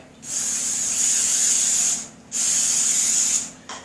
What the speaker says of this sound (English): the best way to do this is you spray the pan